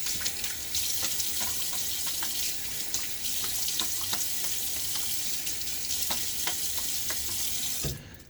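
Water runs steadily from a tap onto shaving lather for a wet shave with a Gillette Nacet safety razor, a constant close hiss with faint clicks and splashes, ending abruptly.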